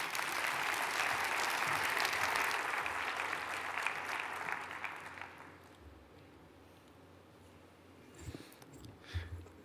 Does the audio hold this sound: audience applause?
yes